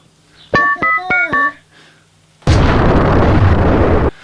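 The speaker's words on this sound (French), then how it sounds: "Des explosions." After a few short tonal blips, a loud, sudden explosion bursts into a dense roaring blast that holds for over a second, then cuts off.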